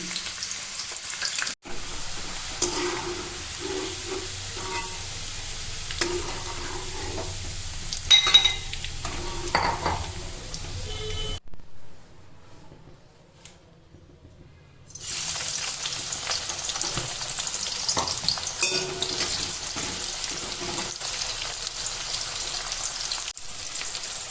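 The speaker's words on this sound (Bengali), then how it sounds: "কড়াইয়ে সাদা তেল দিলাম, সাদা তেলে আমি সবজিগুলো ভেজে নেব। প্রথমে গাজরগুলো ভেজে নেব।" Carrots and other vegetables frying in white oil in a wok, a continuous close sizzle with stirring scrapes, pausing briefly to near silence before the sizzling resumes.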